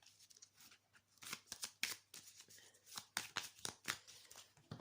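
Oracle cards being shuffled for a reading, a series of quick riffling and slapping bursts, close and quiet, with no talk.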